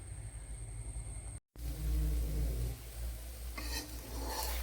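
An egg omelette fries in a hot pan being swirled, giving a loud, steady close sizzle with a brief cut-off, then scraping and crackling.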